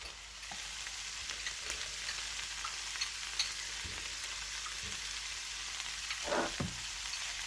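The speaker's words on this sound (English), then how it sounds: "I'm going to mix this all together. We're going to add the spinach." Spinach sizzles in a frying pan as a frittata is cooked, giving a steady, quiet crackle and hiss, with a few stirring scrapes of the utensil near the end.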